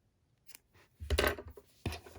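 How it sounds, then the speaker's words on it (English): Close, quiet scissor snips cut a length of yarn during a crochet ear warmer project: a faint click, then a longer crunchy cut and one more sharp snip, with no voices. "I want to go ahead and cut another piece of my yarn"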